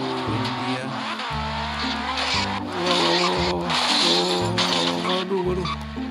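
A cartoon car engine in bad condition strains and whines with wavering, stepped tones, joined by squealing tires and skidding noises over rocks, loud and continuous throughout.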